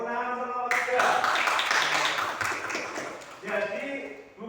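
A classroom applauds group 3 in a religious studies lesson, a burst of clapping lasting a few seconds between stretches of a voice talking.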